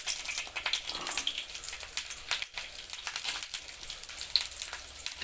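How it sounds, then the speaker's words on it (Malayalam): Shallots and dried red chillies frying in a little oil, a soft, crackly sizzle with small pops, steady and fairly quiet throughout. "നമ്മൾ ആ ചെറിയ ഉള്ളിയും വറ്റൽമുളകും കൂടെ ഒന്ന് ചെറുതായിട്ടൊന്ന് ഇത്തിരി എണ്ണയ്ക്കകത്ത് ഒന്ന് മൂപ്പിച്ചെടുക്കാം"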